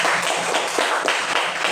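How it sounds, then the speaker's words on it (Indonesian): Schoolchildren in a classroom clap for a group that just presented, a loud, close, dense patter of many hands that goes on without a break and with no voices over it. "tepuk tangan untuk kelompok 3"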